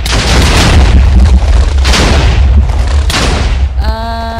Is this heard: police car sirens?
no